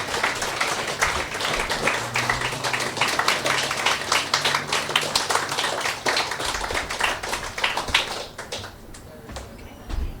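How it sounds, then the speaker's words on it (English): Audience at a poetry club night clapping steadily and loudly for about eight seconds while a poet walks from the back of the room to the stage, the applause thinning toward the end. "we're going to have to clap him for a while"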